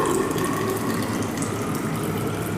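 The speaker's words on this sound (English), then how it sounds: "Add this water to the measuring cylinder" Water steadily poured into a measuring cylinder holding a soil sample, a continuous close gushing and filling sound with no talk.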